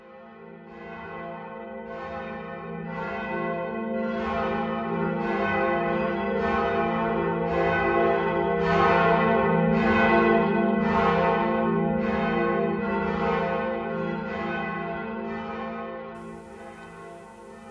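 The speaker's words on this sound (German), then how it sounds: "Glockenklänge." Church bells toll in a slow, regular series of about a dozen resonant strikes, each ringing into the next and swelling in loudness before easing off, with no voices.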